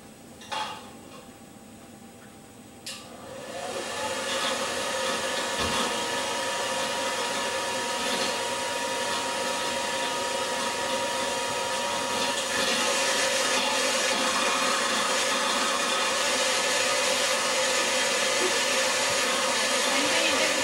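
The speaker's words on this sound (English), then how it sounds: "when I turn the hairdryer on" A hair dryer switches on after a couple of soft clicks and blows with a loud, steady whir that continues without pause.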